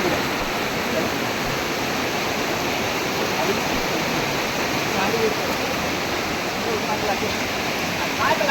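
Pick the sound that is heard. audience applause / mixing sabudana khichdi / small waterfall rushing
small waterfall rushing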